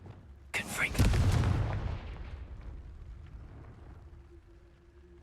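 Confringo fire spell in Hogwarts Legacy, a single sudden booming explosion that rolls and fades over a few seconds, loud and close, followed by quiet game ambience.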